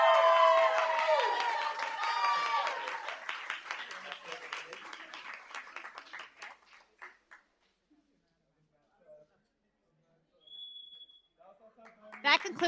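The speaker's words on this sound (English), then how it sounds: "Let's give our Lynwood Knights college students another round of applause." An audience at a school board meeting gives another round of applause for college students: a full burst of clapping and some cheering that thins into scattered claps and then fades to near silence, with a brief sound near the end.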